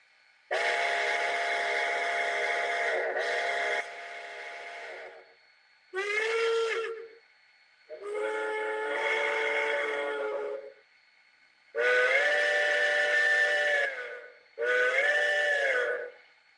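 A Baldwin single-chime steam train whistle blows five separate blasts of varying length, some held long and others short, shrill and loud with silent gaps between.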